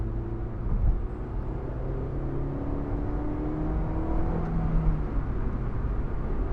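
The engine of a Honda S2000 AP2 drones and climbs through the revs from inside the car, a steady, moderately loud whir with rising and falling tones, with no one talking over it.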